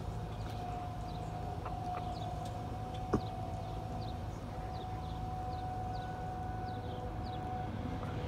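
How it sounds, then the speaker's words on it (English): Tornado warning siren test in Lincoln, Nebraska, a steady faint wail sounding far off across the whole stretch, with chirping birds and a brief knock over a low background rumble. "Okay, this is a siren test"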